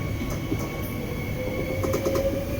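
A train runs on rails on the route from Paris toward Versailles, giving a steady interior rumble with faint wheel squeal and a thin high tone throughout.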